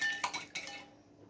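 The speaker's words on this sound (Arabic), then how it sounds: "احنا كده كسرنا البيضتين، حطينا شويه فلفل اسمر. تمام، نديهم كده ضربه الاول لوحدهم." Two eggs and black pepper beaten in a bowl for Egyptian eggah patties, giving a few quick utensil clinks against the bowl that fade out after under a second.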